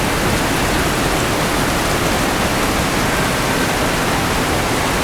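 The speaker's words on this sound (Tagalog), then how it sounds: "Narinig siguro nyo yung kaluskos ng ulan sa bubong." Steady, dense rain drumming on a roof, a constant hiss with no pauses or voices.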